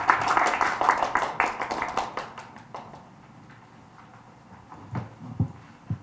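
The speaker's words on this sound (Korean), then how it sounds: "큰 박수 부탁드립니다." An audience at the 2022 Daegu carbon-neutral city forum claps to welcome a speaker. Brisk, fairly close clapping fades within a few seconds into a handful of scattered claps and small knocks.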